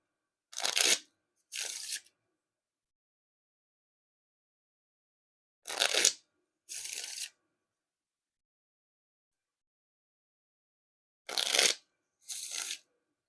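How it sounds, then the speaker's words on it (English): Snackers v2 BlackBerry Flavor playing cards are riffle shuffled and then bridged, three times over. Each round is a brisk riffle burst followed by a softer cascading bridge, close and isolated, with silent pauses between rounds. "Pretty smooth Wiffle Shuffles and Bridge Shuffles"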